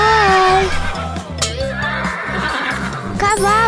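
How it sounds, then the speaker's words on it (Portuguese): A horse neighs in loud, wavering whinnies at the start and again at the end, with children's voices and a steady thumping rhythm throughout. "Cavalo!"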